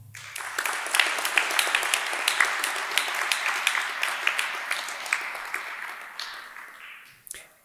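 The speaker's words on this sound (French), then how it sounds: "Mesdames et messieurs, je vous demande d'applaudir Maître Dufranc." A seated audience claps in sustained, dense applause at a staged mock trial, steady for several seconds before tapering off and ending.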